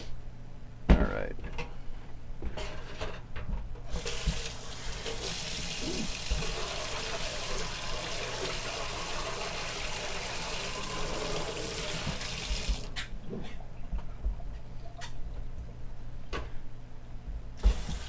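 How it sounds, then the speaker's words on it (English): A kitchen tap runs cold water into a sink, a steady hissing rush that starts a few seconds in and stops sharply near the end, with clinks and a voice around it. "Just run a sink full of cold water"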